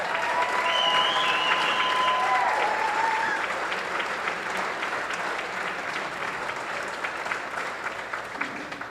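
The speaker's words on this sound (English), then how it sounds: "Let's have one more big round of applause for all of our inductees." Sustained applause from a hall of fame induction audience fills the room, dense and steady throughout, easing only slightly toward the end, with a few faint tonal sounds early on.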